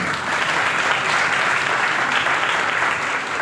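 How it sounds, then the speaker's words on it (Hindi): A church congregation claps together for visiting elders and a pastor, a thick, continuous round of applause from many hands that stays loud and even throughout, with no speech on top. "इनके लिए हम तालियां बजाते हैं।"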